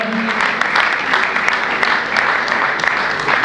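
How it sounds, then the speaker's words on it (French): Congregation at a church service clapping and cheering for the Lord, a steady dense wash of applause with scattered louder claps running throughout. "Est-ce qu'on peut acclamer pour le Seigneur?"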